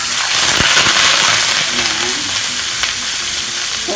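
Chicken frying loudly in hot oil for chicken sprite in oyster sauce, a steady close sizzle with sharp pops and crackles of spattering oil throughout.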